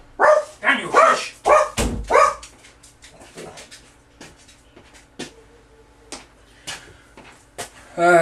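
Indoor dog barking at someone at the door, a burst of several loud sharp barks early on followed by quieter scattered yips and whimpers, with a person talking in between.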